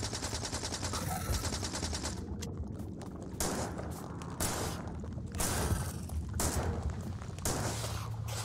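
Sustained, heavy gunfire rattles from the video game Factorio as weapons fire at alien nests, a dense, continuous barrage of rapid shots with brief dips, loud and up close.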